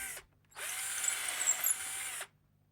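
A power drill pre-drills a hole all the way through a ladder-shelf leg, one steady high whine of under two seconds, starting and stopping abruptly in a quiet room.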